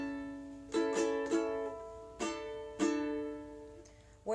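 Ukulele strummed for a "Taxicab" pattern with fingers held down on the chords, five bright down-strums in an uneven rhythm, each ringing on into the next, close and alone.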